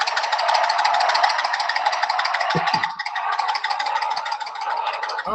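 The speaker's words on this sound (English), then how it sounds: "That's my motorcycle running in the background." A motorcycle engine runs steadily in the background, a continuous buzzing drone with a fast rattling pulse, fairly loud and unbroken throughout, with a couple of brief thumps partway through.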